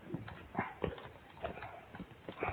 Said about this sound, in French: Il fait rire un peu le cheval.